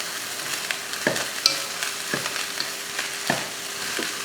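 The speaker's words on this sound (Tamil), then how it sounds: "மல்லித்தலை தூவிட்டு கலந்து விட்டுருவோம்" Rice with coriander leaves sizzles softly in a pan as a spoon scrapes through it, with a few distinct knocks against the pan over a low frying hiss.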